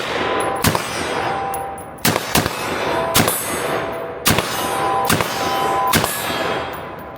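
A Steyr AUG bullpup rifle fired in quick succession, about seven loud, sharp close-range cracks, some in pairs, each with a metallic ringing tail.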